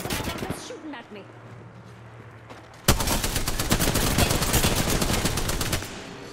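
Rapid automatic gunfire from Apex Legends breaks out in a loud, sustained burst after a calmer stretch of game sound, with a player talking.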